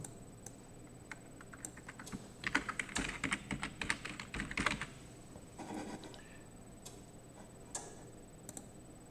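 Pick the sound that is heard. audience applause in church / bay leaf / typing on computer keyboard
typing on computer keyboard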